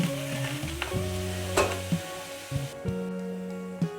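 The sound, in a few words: stirring vermicelli roasting in ghee in a pan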